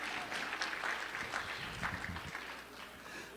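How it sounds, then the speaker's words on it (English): Applause from a breakfast meeting audience of a Pennsylvania delegation fills a room, a dense steady wash of many hands clapping at moderate level, with faint voices mixed in. "give yourselves a round of applause"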